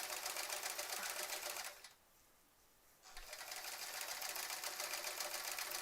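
A sewing machine quilting loops on a sampler quilt runs in a fast, even stitching rattle, stops for about a second, then resumes at the same steady pace, fairly close and alone.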